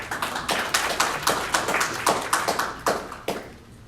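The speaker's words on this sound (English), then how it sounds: "Excellent. Give yourselves a round of applause." Audience clapping at a live business talk in Boston: a loose, rhythmic burst of claps, close and distinct rather than a dense roar, tapering off toward the end.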